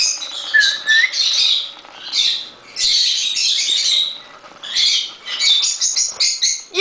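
Several loud pet birds squawk and screech in bursts close by indoors, harsh calls tumbling over one another with brief gaps between flurries.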